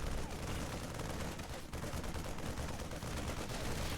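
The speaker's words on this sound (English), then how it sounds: "these are a lot of big rocks and they just have 2 guns they're shooting at" In a video game, Marines fire two guns at a cluster of big rocks, producing dense, continuous rapid gunfire that stays steady and fairly faint throughout.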